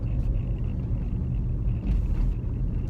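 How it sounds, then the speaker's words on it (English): A VW Golf Mk3 with the VR6 engine running, a low steady rumble close by with slight swells and no voices. "And as for the noise of the VR6, an absolute monster of an engine"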